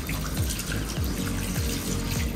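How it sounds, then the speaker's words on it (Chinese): Tap water runs steadily while a child's hair is rinsed during a home haircut and wash, a continuous close splashing flow with no talk over it. "好，不会再动了，我要冲水了。"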